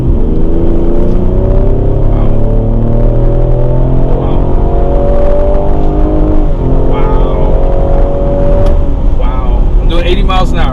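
A 2020 Ford Explorer ST in sport mode accelerating hard from 30 to 80 mph, its engine note climbing steadily in pitch through the gears with brief dips at shifts, loud and close from inside the cabin.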